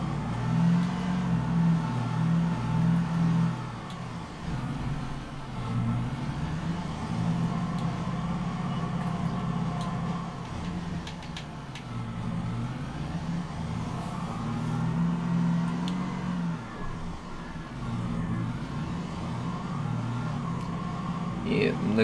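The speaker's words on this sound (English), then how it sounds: "Look at this nice BMW though." Engine of a BMW car in a driving video game, a steady mid-pitched drone with a few rising revs, continuous and fairly loud beneath someone talking throughout.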